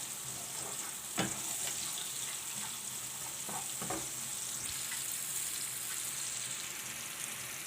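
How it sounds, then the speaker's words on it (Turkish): Onions frying in a pan for menemen, a steady soft sizzle under a faint hiss with a few light clicks and stirs, close and fairly quiet, no talk. "Soğanım kavruldu iyice."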